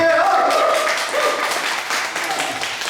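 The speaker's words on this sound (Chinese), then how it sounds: "来，大家掌声鼓励" Applause from a church congregation during a Sunday service fills the room, continuous clapping mixed with a few voices.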